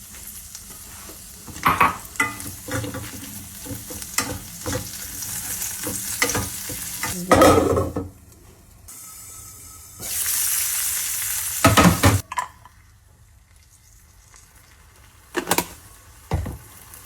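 Butter and button mushrooms sizzling in a frying pan, a steady close crackle broken by stirring and a few louder bursts of hiss, with brief pauses where the frying drops nearly quiet.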